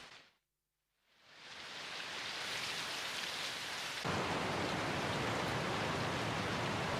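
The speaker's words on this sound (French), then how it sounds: "Il pleut des cordes." Heavy rain pours down in a dense, hissing roar that comes in after a brief hush, swells, and then grows even louder partway through. It is steady and close, with no voices.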